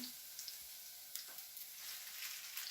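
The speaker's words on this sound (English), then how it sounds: "So now garlic can burn very quickly, so just stir it around for just a few seconds" Garlic fries in a pan while being stirred around, a soft, even, fairly faint hiss of sizzling with a brief scrape or two.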